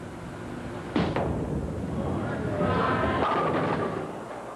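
A bowling ball slams into the pins during a 1984 PBA King Louie Open match, a single sharp thud followed by a rolling clatter of scattering pins amid crowd noise, with a commentator speaking over it.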